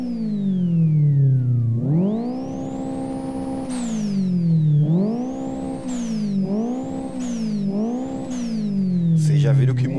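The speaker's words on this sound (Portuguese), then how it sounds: "Vocês já viram que mudou o barulho do carro já, né? Barulho do motor." Turbocharged Opel Corsa in the Live for Speed racing game, engine revving up and down through several gear changes with a rising whine, loud and close, and a voice speaking underneath.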